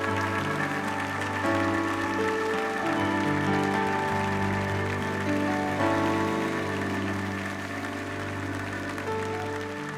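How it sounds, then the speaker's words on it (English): A church audience claps hands together, a dense, steady wash of applause sounding loud and near, sustained throughout with organ-like tones sustained underneath. "Stand up and clap your hands real big like God's awesome."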